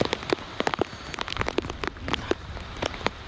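Rain patters and drips around a cyclist riding through a wet rural road, irregular close taps and splashes over a soft steady wash, with no talking.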